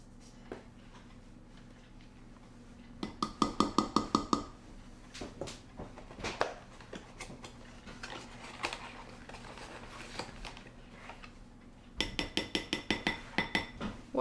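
Dry ingredients and flour being mixed for popcorn cookies, with bursts of rapid clinking and scraping from a utensil against a bowl in a kitchen, alternating with quieter stretches of handling.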